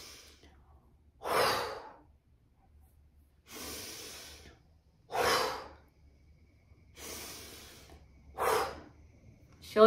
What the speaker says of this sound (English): So we're gonna take a deep breath in.